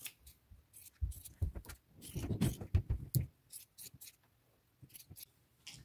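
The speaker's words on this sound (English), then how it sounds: "And now I'm just going to cut these sleeves off." Scissors snip through the sleeves of an old cotton T-shirt, a run of close, crisp cuts and scraping blade strokes in irregular bursts with pauses between, no talking.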